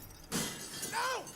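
Glass shattering in the video game Myst III: Exile, a sudden loud crash with a brief bright tail, followed by a gliding tonal effect.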